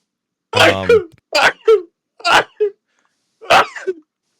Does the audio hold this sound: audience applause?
no